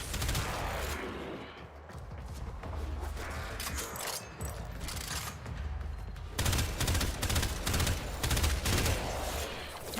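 Sustained, dense gunfire in Warframe fills the whole stretch, loud and continuous with overlapping shots and explosive bursts and no pauses.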